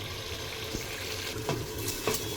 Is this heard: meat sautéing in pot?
yes